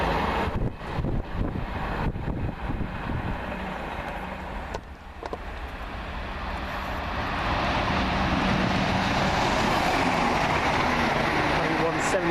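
A passenger train from Glasgow Central to Penzance rumbles past at Water Orton, building from a distant roar to a loud, steady wash of wheel and engine noise, with wind buffeting the microphone.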